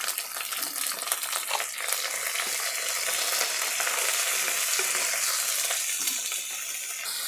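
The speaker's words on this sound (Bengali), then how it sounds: "ধুন্দলটা আমি হালকাভাবে ভেজে নিব আর তারপর সব মশলাগুলো আমি অ্যাড করে দিব।" Ridge gourd fries with spices in a pan, giving a steady, dense sizzle that stays loud and even throughout, with faint stirring scrapes and no talking.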